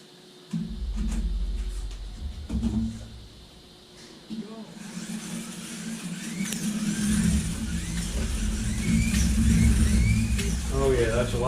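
An NSR Mercedes AMG GT3 slot car running laps on a track, its small electric motor whining and rising in pitch as it passes, with a person talking at the start.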